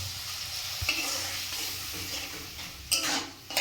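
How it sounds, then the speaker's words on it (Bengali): Fish curry masala for a village-style sonabogo fish curry is stirred in a sizzling pan with scraping strokes, followed by a louder hissing surge as water goes in. "এবারে কিছুক্ষণ নাড়ার পরে এবারে দিয়ে দেওয়া হচ্ছে পরিমাণ মতো জল"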